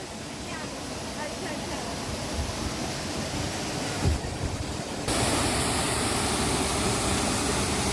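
A monsoon waterfall near the Gokul Shirgaon temple roars in a steady, dense rush of water that fills the whole clip and grows louder partway through.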